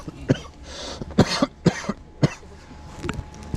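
A runner coughs repeatedly after an Engelberg 100k mountain trail race, several sharp coughs in irregular bursts, close and fairly loud with no talk.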